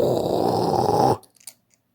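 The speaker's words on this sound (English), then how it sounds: "it's just amplifying the disconnection sounds" An EMF detector amplifies electrical disconnection noise as a loud, steady buzzing drone with a rough low rumble, which cuts off abruptly and leaves a few faint crackles in near silence.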